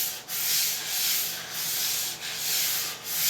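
Round sanding discs rubbing a wooden cutting board by hand in steady back-and-forth strokes, a close, hissing scrape that swells and dips with each pass.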